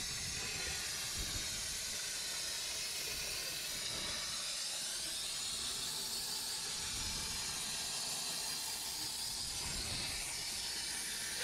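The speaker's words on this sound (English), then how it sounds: "keep that steamer back 6 inches or more from the surface" Steady, loud hiss of a steam cleaner held back from the surfaces while detailing a very dirty car interior, continuous throughout with slight swells and no talking.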